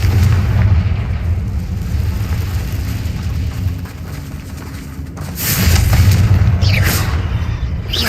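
A Confringo blasting spell explosion in the Hogwarts Legacy video game, a loud booming blast with rumbling low end that swells again near the end amid game ambience.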